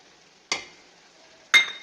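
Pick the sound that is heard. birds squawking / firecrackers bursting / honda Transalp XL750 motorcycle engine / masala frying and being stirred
masala frying and being stirred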